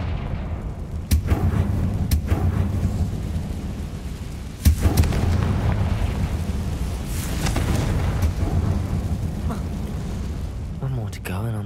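Bombarda spell explosions in Hogwarts Legacy, with deep booming blasts and rumbling over a dense game background, and a voice speaking throughout.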